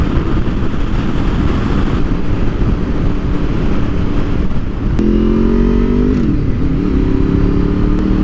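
A Honda VFR motorcycle engine pulls hard through the revs on a test ride, with a steady, loud drone under wind noise, then a rising, clearer engine tone that dips briefly and climbs again.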